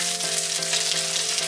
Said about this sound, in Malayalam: ചിക്കൻ വറുത്ത് കോരിയ സെയിം എണ്ണയിൽ തന്നെ സവാള ഇട്ട് കൊടുക്കാം